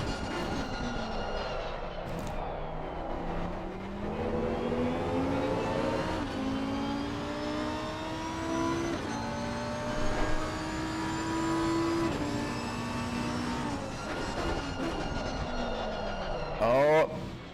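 Lamborghini GT3 race car engine from the cockpit at Zolder in a racing game, a loud harmonic howl climbing through gears with sharp shift breaks and throttle lifts, a voice speaking over it.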